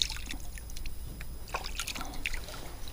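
Water splashes and trickles as fish slime is rinsed off hands outdoors after bass fishing, soft irregular splashes and drips, close but fairly quiet.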